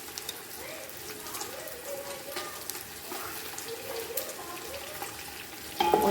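Beef fries with ginger garlic paste in a pot, giving a steady close sizzle and crackle that continues without a break, with a brief louder clatter near the end.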